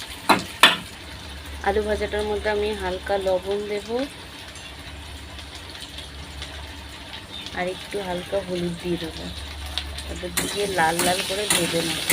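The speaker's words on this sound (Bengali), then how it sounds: "এবার দেখো কড়াইতে আমি তেল দিয়ে আলুগুলো একটু ভেজে নেবো লাল লাল করে" Potatoes fry in oil in a kadai with a steady sizzle and hiss, while a voice talks intermittently over the cooking sounds.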